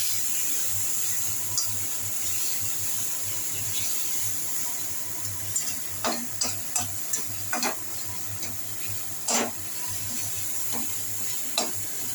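Pointed gourd stir-frying with sugar in a pan, a steady soft sizzle broken by several quick spatula scrapes and taps in the second half, close and moderately quiet.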